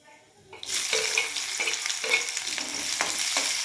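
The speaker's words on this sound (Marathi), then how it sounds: "आता ह्याच्यामध्ये जिरं टाकून घेते जिरं राहिले आता ह्याच्यामध्ये एक कांदा घालून घेते" Cumin and sliced onion frying in hot oil in a pan for a soybean curry base, a loud steady sizzle bursting in and carrying on close up, with occasional stirring scrapes and no talking.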